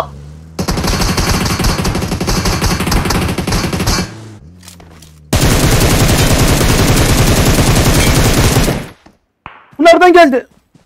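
Automatic gunfire in the mobile battle-royale game PUBG Mobile rattles out in two long, loud sustained bursts separated by a brief pause, followed by a short final burst with a ringing tone.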